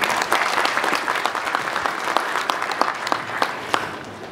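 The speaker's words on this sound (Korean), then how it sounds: "니로 박수 한번 부탁드리겠습니다." Audience applause at a Kia Niro press presentation, a dense burst of clapping that thins out into scattered individual claps toward the end, fairly close and alone without talk.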